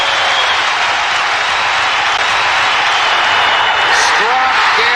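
A baseball stadium crowd roaring for a strikeout that clinches the Pittsburgh Pirates' National League East division title in 1991, a dense sustained roar with whistles rising near the end and an announcer talking over it.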